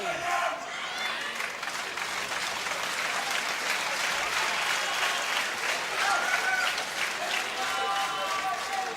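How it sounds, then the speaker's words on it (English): Crowd cheering and applauding at a badminton quarter-final of the Denmark Open, a dense continuous roar of clapping and voices filling the hall, steady throughout with slight swells. "It was the crowd cheering."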